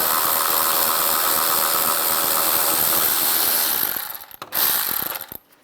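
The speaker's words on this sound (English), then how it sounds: "And you want to take these bolts out," Ratchet with a 10mm socket turning out headlight bolts on a 2011-2019 Ford Explorer, a rapid continuous clicking that runs close and loud, then breaks into a few short bursts before stopping.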